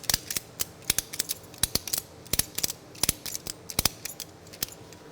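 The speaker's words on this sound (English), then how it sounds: "I'm going to ratchet this into position." A ratchet strap cranked tight to hold a MacNeil RS-1000 car wash top brush in place, producing sharp, rapid ratcheting clicks in uneven bursts, close and clear with no talking.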